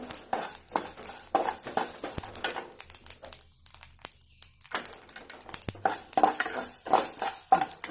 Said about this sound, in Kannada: ತುಂಬಾ ಪರಿಮಳ ಬರುತ್ತೆ ಚಟಪಟ ಚಟಪಟ ಅಂತ ಇದೆ